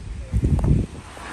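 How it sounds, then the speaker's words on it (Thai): Strong summer-storm wind gusting around an open, unsheltered house, a brief low roaring buffet with rustling, loudest in a short burst before easing to a steady whoosh. "ลมอัศจรรย์เลย"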